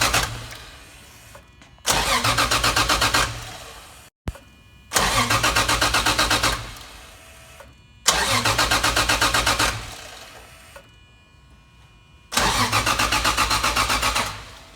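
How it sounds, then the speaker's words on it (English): A Toyota JZX110 with a 1JZ engine and top-mount single turbo cranks on its starter in four loud, rhythmic bursts of a few seconds each, separated by short pauses of quieter running noise. "we're just about to crank it without the igniter chip plugged in, so we can just get oil to the turbo"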